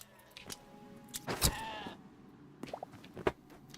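Sheep bleat in the Hytale video game, a short wavering cry rising out of quiet game sounds, with a few clicks and small effects around it.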